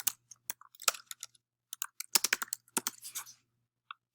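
A computer keyboard clatters in quick irregular bursts of close, crisp key clicks with short pauses between, alone and without talk.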